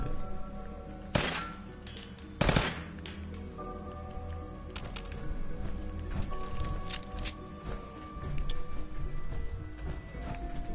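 Gunfire aimed at an elevator in Fallout 4, with two sharp, loud shots a little over a second apart, followed by scattered lighter thuds and taps over a humming game background.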